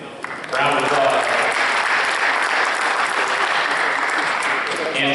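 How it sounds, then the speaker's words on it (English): A round of applause fills a football awards ceremony, dense clapping swelling in after a brief moment of talk and holding steady and loud to the end, with a voice or two mixed underneath. "Round of applause."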